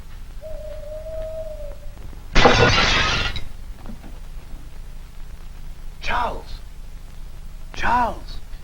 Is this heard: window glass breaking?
yes